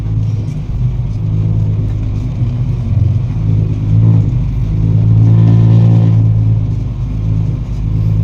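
A tractor engine drones steadily while it drives along a bumpy road, its low rumble swelling slightly midway, with no voices present.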